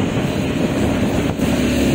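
Strong super typhoon wind roars steadily and loudly close to the microphone, a dense continuous rush with buffeting gusts and no pause across the whole stretch.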